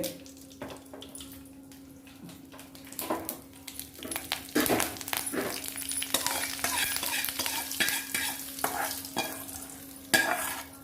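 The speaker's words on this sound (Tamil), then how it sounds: "எளிய முறையில் முருங்கைக்கீரையை வதக்கி நம்ம செய்யலாம்" Drumstick leaves sauté in a pan, a dry crackle building into a steady sizzle with scraping stirs that grow busier toward the end, over a low steady hum.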